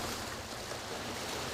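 Sea waves on the Jeju coast, a steady broad wash of surf and water noise with a low rumble underneath, faint and continuous with no voices.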